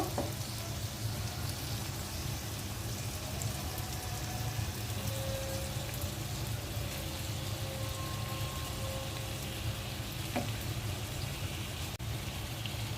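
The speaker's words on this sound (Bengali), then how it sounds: "এখন আমি মাছগুলো দিয়ে দিব।" Pabda fish added to a hot pan of sautéed potatoes and pointed gourd, a soft continuous sizzle and crackle of frying oil, steady and fairly quiet from start to finish.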